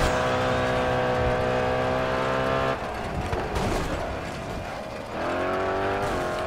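Race car engine in GRID Autosport screaming at high revs with a tyre squealing, then dropping off as the failing tyre lets go before the engine climbs again; loud, continuous game audio.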